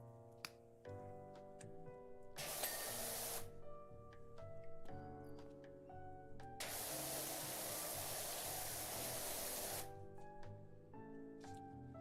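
A soap dispenser gives two loud bursts of spraying hiss, one short and one longer and sustained, between stretches of quieter sound.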